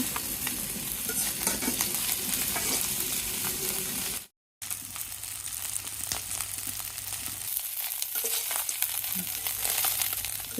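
Small fish, puti and taki, frying in a pan, with a constant, close sizzle and occasional stirring, broken by a brief silent gap near the middle.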